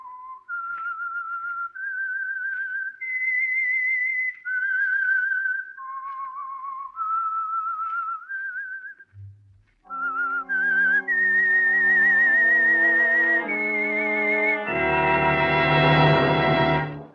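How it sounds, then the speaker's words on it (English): A whistled theme melody signals the old Signal Oil radio mystery program The Whistler: a lone, clear whistler carries a wavering tune for about nine seconds, then a full orchestra takes over with swelling sustained chords building to a loud finish. "That whistle is your signal for the Signal Oil Program, The Whistler."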